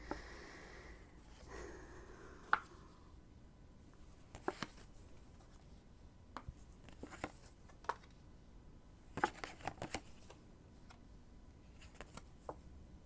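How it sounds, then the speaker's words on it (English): Tarot cards are laid out one by one on a table, giving soft scattered slaps and light shuffling ticks at an uneven pace, quiet and close with no talking. "let me just lay out the cards."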